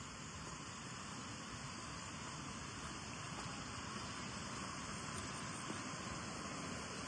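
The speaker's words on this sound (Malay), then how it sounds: "Ini dia sungainya." A river at the site of a vanished suspension bridge rushes as a steady, broadband wash of flowing water, constant and fairly near, with no voices heard.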